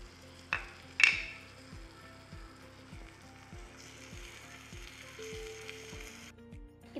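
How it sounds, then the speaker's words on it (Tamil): Ginger garlic paste sautés in a tiny miniature pan with a soft, quiet sizzle, opened by two sharp clinks of the utensil, under a steady rhythmic musical backdrop. "இப்போ இதில் இஞ்சி பூண்டு விழுது போட்டு வதக்கிக்கலாம்."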